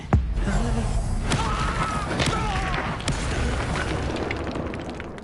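A Confringo fire spell exploding in Hogwarts Legacy: a sharp booming burst at the start followed by rumbling debris and a faint shimmering magical tail, loud and close.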